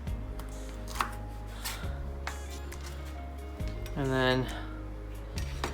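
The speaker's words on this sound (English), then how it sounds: "So I need to cut this down quite a bit still." Kitchen knife chopping pieces on a cutting board, a few close, sharp knocks scattered between pauses while a person talks over them.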